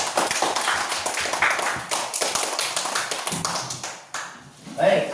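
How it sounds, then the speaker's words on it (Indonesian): A class of children claps hands together in a schoolroom, a quick ragged patter of many hands mixed with young voices chattering throughout, ending with a sharper burst. "Yuk tepuk tangan untuk kita semuanya."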